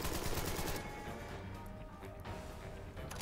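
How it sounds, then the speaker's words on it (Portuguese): Gunfire in the crime strategy video game Empire of Sin, a loud burst of shots at the start followed by quieter crackling and scattered impacts, with no talking. "Vou dar um tiro no Hugh Miller."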